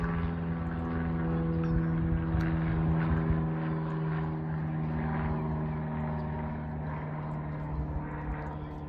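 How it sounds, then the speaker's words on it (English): Continuous drone of a propeller airplane passing overhead a garden, steady and moderately loud throughout with a low humming engine tone. "sorry about the plane"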